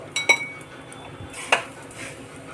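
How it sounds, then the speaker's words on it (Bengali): Semolina powder tipped into a frying pan of browned semolina and stirred, giving a couple of sharp spoon-on-metal clinks and scraping amid quiet rustling, close and moderately loud. "এখন আমি গুঁড়োটাও দিয়ে দেবো।"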